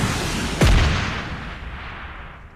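An RPG rocket explosion in the shooter game PUBG Lite lands as one sharp, heavy boom that rings out and fades over a second or two against steady background game noise.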